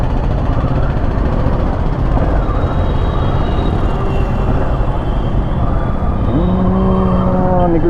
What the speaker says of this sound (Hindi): ओहो हो ट्रैफिक अच्छा खासा ट्रैफिक मिल गया भाई